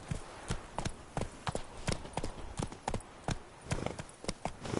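Hooves of the horse Roach clop in a quick, steady rhythm as it gallops through a video game world, each footfall crisp and close.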